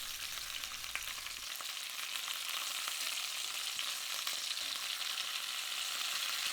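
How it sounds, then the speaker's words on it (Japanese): Duck legs sear in a cocotte, a steady, close crackling sizzle of fat and skin that runs unbroken throughout, with faint occasional pops and no voices. "皮の面がきれいに焼けたら反対側の面もきれいに焼いていきます"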